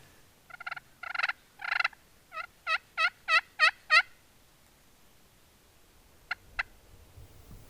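A wild turkey gobbler on a far ridge gobbles in a rapid series of rattling calls, then two short, fainter gobbles follow after a pause.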